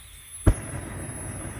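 A Harbor Freight propane torch lit with a lighter catches with a single soft low whoomp, then settles into a steady airy hiss of gas burning close by.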